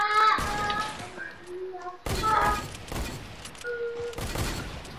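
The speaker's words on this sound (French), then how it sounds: "j'ai tiré trois fois" Video game gunfire, three shots from a sniper rifle: a few sharp bursts separated by short gaps, mixed with game tones and chatter, with voices talking over it.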